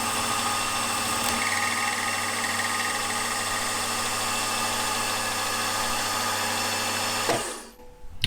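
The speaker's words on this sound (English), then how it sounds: "I'll bolt it down and then just mill out that area here to match that." A milling machine cuts an oil pump part for a model V-twin engine, a steady whining machining drone with constant tonal hum that runs continuously, then stops abruptly near the end.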